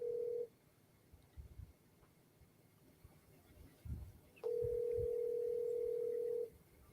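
A phone call rings out with a steady electronic tone that stops, then resumes as a long sustained tone, with a few faint thumps and low background noise between.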